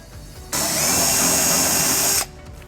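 A power tool spins a nut onto a trailer wiring mounting bracket on a 2020 Toyota Highlander, a loud, close, high-pitched whir that starts abruptly, holds for under two seconds, and cuts off sharply.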